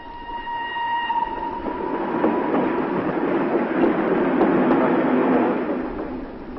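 A train runs along rails across Europe, a loud, continuous rumble with faint rhythmic clicks that swells and holds steady. Sustained tones at the start fade out as it passes close by.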